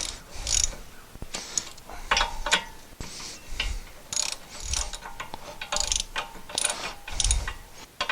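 A ratchet clicks in bursts while rear brake bolts are tightened on a Honda CR-V, the rapid pawl ticking close and fairly loud, stopping and starting in short strokes with no talk.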